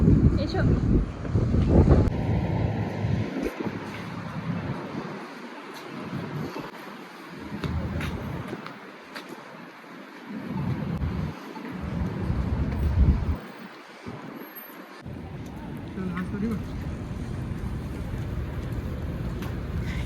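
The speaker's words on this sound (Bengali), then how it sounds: "বাইরে আর ভীষণ ঠান্ডা তার সাথে চলছে হাওয়া" Cold wind gusts outdoors in Canada, a broad rushing roar that rises and falls across the recording, with occasional muffled voices and passing background noise.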